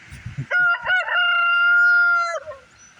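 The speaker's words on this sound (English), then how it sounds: "The old rooster copying the young rooster who was doing his thing." A single rooster crows loudly and close by, a long drawn-out call lasting about two seconds, with quiet clucks before and after.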